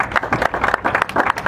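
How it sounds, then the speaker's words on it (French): Audience applause in an assembly hall, a brief burst of dense, moderately loud clapping from many hands. "Sous vos applaudissements, s'il vous plaît."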